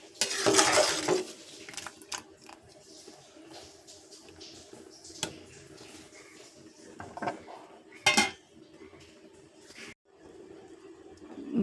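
Cauliflower lifted out of hot water in a cooking vessel, with metal clinks and scrapes of a utensil against the pot coming in irregular bursts over a low background.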